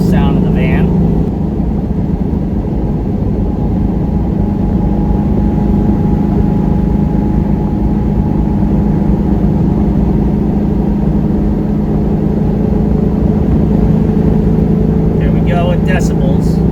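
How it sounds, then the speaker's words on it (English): A 1986 Volkswagen Syncro van cruising at about 50 mph on a highway, a loud steady engine drone and road roar heard from inside the cabin, continuous and unbroken, with no talk over it. "I am mic'd up, so the mic may be dampening the actual sound of the van."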